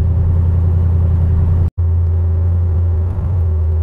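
A vehicle with a DoD delete kit installed and its exhaust cutouts closed idles with a loud, steady low rumble up close, cutting out for an instant before resuming.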